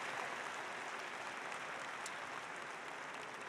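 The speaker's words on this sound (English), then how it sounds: "I think that deserves a round of applause for our gratitude to those alumni volunteers and donors." An audience at a university commencement ceremony applauds in a steady, even wash of clapping, fairly distant and continuous throughout.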